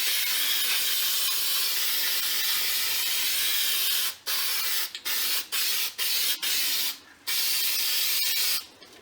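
Adhesive spray from an aerosol can hisses steadily onto foam and wood for about four seconds, then cuts into a run of short, broken bursts with brief pauses between them, close and fairly loud, with no one speaking.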